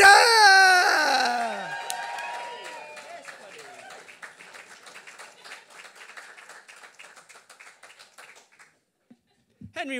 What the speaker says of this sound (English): So please, York, can we get a little bit of stamping? A little bit of tapping on your tables, then start clapping, start whooping and wailing for the legendary Pete the Temp Bidder!